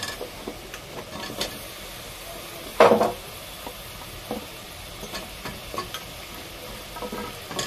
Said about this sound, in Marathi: आता शिमला मिरची टाकून घेते. बटाटा टाकून घेते.